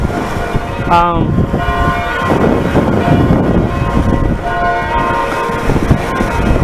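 Loud, clanging church bells ring continuously in a noisy outdoor spot, layered with background bustle and a voice talking underneath.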